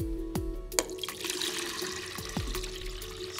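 Water and ice slosh and gurgle inside a dewar container, with a few sharp knocks and clunks over a steady liquid wash, fairly quiet and close.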